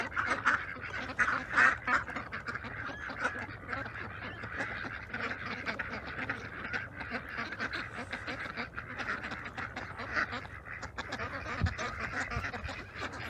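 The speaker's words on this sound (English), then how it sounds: "All the ducks going through their own little door." A flock of free-range farm ducks quacks and honks continuously nearby, a busy overlapping chorus with scattered louder calls.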